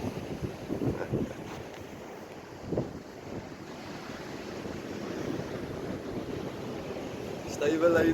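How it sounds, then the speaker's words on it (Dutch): Wind blows at the sea along a False Bay coastal road, a steady rushing with gusts and buffeting against the microphone, while the surf and water wash beneath it. "Dit is lekker by die see om wind te vang."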